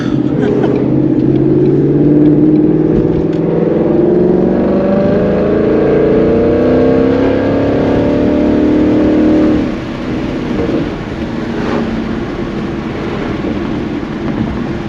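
A Ford Mustang engine in drag mode revs and holds a rising, droning note heard from inside the cabin, loud and steady, then eases off as it decelerates partway through.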